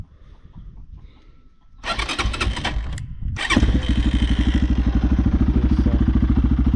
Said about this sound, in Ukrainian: покажу вам зараз як він заводиться